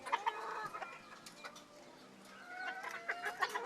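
Small OEG bantam chickens clucking repeatedly, several birds overlapping in a quiet outdoor setting, with brief louder calls near the start and end.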